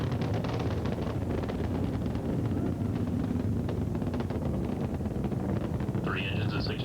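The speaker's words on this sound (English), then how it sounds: "Engines throttling down now to maintain a certain speed as the spacecraft passes through max Q." Space Shuttle Discovery's engines roar through launch in a broad, dense rumble with wind-like buffeting, steady and powerful throughout.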